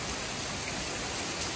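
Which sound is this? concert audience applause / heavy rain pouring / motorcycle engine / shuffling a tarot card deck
heavy rain pouring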